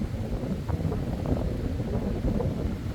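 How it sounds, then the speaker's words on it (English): Outdoor wind buffets the microphone in a steady low rumble with no other clear sound. "The place is so windy right now."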